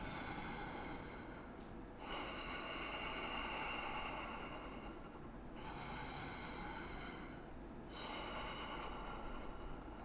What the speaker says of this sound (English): Take 3 more deep breaths